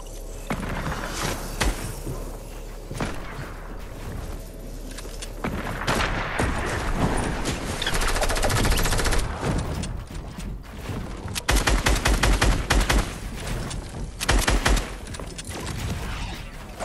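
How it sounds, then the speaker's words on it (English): Hunting rifle shots ring out in a loud, busy burst, several sharp cracks spread across the stretch with heavy rumbling between them, close and forceful, no voices. "That's a hunting rifle."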